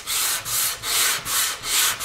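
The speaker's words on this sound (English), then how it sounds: "220 sandpaper in a sanding block. And we're just going to work back and forth here." Back-and-forth strokes of 220-grit sandpaper in a sanding block rub over a stained figured maple guitar top, a steady rhythmic scratchy swish repeating about every half second, close and alone.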